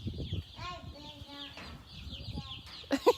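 Soft cheeping from baby chicks on a farm nearby, a high steady chirping over faint background noise, ending with a brief louder rustle.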